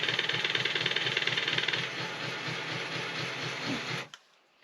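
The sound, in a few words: model railbus engine sound from Soundtraxx Sierra sound board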